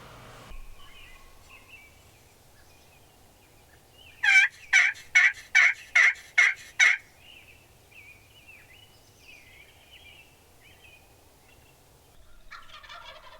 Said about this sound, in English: I finally heard a couple of gobbles back